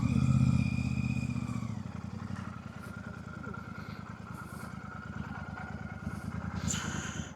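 A Royal Enfield Super Meteor 650 motorcycle engine idles nearby with a steady low rhythmic thump, slightly rising near the end, while faint voices and street noise sit in the background.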